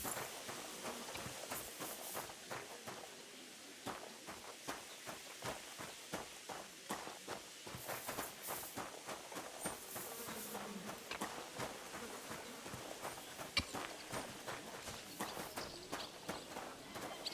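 Rhythmic clip-clop of horse hooves at a steady walking pace in the video game Kingdom Come: Deliverance II, fairly quiet and close, continuing throughout without speech.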